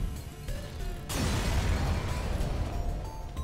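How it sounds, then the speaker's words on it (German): A spaceship blows up in the space strategy game FTL: Faster Than Light, a sudden broadband blast that swells out of quieter game ambience and rumbles on as a sustained crackling roar. "Das Schiff explodiert und hinterlässt."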